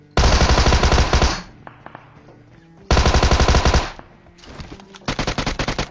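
Loud automatic gunfire in a shooting video game rattles out in three long rapid bursts, with quieter scattered shots and game noise in the gaps between them.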